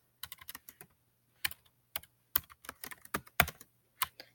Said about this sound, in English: I'm going to type in free full text